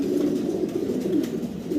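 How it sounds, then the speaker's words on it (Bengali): Hungarian house pigeons coo in a low, continuous, overlapping murmur, close and fairly steady, with no talk. "সম্মানিত দর্শক হাঙ্গারিয়ান হাউস পিজন দেখতেছি আমরা ভাইয়ের কাছে"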